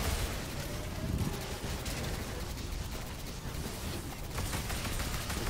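Dense, continuous gunfire crackles through a video game firefight, a washy barrage of overlapping shots and distant bursts that fills the whole stretch at moderate loudness without clear individual reports.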